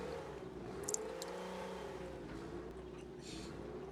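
Small truck engine in the Mudrunner video game revving with a high, buzzy whine that rises and falls like an angry sewing machine, steady and moderately quiet, with a couple of brief clicks near the start.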